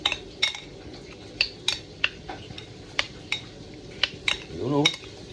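Baby queen fish kinilaw is mixed in a bowl, with a utensil clinking and scraping against the dish in quick irregular taps, close by with no talking.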